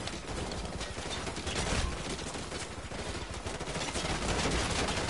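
Dense gunfire in Call of Duty: Modern Warfare 2 Remastered, rapid shots striking a riot shield in a continuous loud clatter with no pauses.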